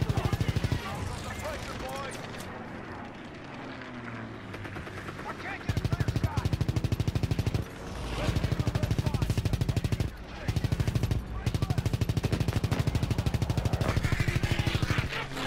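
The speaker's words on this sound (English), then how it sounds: "Oh god, we're being shot." Machine-gun fire rattles against a plane in flight in Call of Duty WW2, long dense bursts of rapid shots over a constant engine drone, loud and close, with people talking over it.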